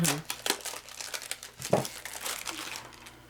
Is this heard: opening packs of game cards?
yes